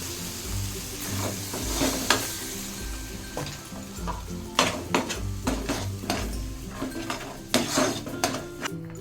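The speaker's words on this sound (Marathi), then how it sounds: "फ्राय करून घे" Cashew and onion gravy frying in a pan, with a steady sizzle under repeated clinks and scrapes of a utensil against the pan. No voices.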